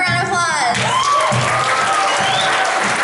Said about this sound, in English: Wow, give her a round of applause.